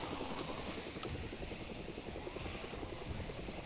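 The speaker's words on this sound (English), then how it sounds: "Don't ever want to be outside during a helicopter event." Helicopter passing overhead during a helicopter event in the Project Zomboid video game, a steady rapid rotor chop under a broad whooshing hum, moderately loud and continuous.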